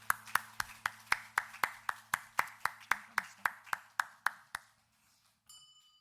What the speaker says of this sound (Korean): 하나님께 감사와 영광의 박수를 드립니다.